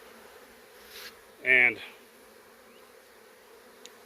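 A honey bee buzzes close by for about half a second beside an opened hive, then quieter droning and a faint background hum continue, and a person briefly speaks.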